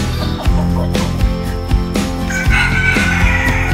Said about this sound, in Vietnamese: phần lớn cái khu này của mình là toàn gà lớn rồi các bạn